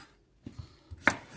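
A knife roughly chopping a tomato on a cutting board: a handful of soft, uneven close thuds followed by one sharper knock, with no talk.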